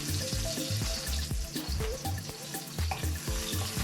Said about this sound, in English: Now I'm frying garlic.